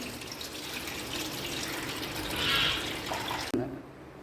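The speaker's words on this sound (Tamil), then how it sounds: "புளியை கரைச்சி ஊற்றிடுவோம்." Dissolved tamarind water is poured into a pot in a home kitchen, making a steady splashing rush that swells briefly, then cuts off abruptly and leaves a quieter tail.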